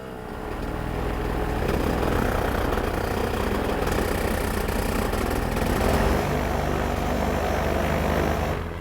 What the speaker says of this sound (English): Not running very great, running a little bit rough, not coughing like it was on lean.